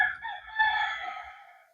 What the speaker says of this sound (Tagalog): Ingay mga manok.